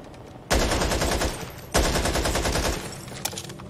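Loud bursts of AK rifle fire in Back 4 Blood, two sustained rattling volleys a second or so apart, followed by a sharp single crack.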